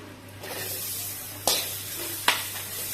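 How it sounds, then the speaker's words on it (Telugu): Finely chopped onion fries in oil in a pan for a chutney, a close, steady crackling sizzle broken by three sharp scraping stirs with a spoon. "చిన్న ముక్కలుగా కట్ చేసుకొని ఇలా వేయించుకోవాలి"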